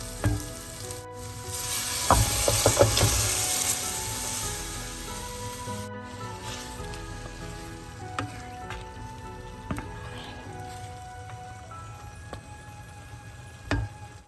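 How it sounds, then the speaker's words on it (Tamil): Mutton pieces go into a pan of fried onions, giving a rubbing, sizzling fry with scraping stirs, louder at first and then settling into a steady crackle with occasional clicks. "இனிமேல் நான் இதோட ஆட்டிறைச்சியை சேர்க்க போகிறேன்."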